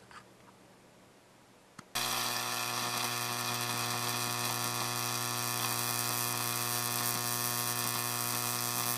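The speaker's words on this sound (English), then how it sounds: "Same transformer, just a different pair of tungsten electrodes, again with the boric acid on them." A neon sign transformer drives an arc between tungsten electrodes coated with boric acid, starting abruptly after a quiet hum into a loud, steady buzzing drone with strong harmonic overtones that holds to the end.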